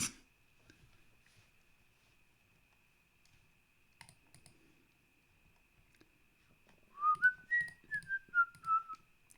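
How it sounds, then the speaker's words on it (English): A short whistled tune, a few gliding notes, rises up near the end after quiet keyboard clicking and a faint steady tone. "Sorry for whistling, I know it doesn't sound good on the mic."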